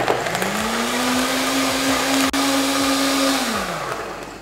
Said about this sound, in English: if you were to blend this longer, it wouldn't sound like you're blending rocks